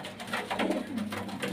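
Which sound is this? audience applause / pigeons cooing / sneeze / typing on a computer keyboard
pigeons cooing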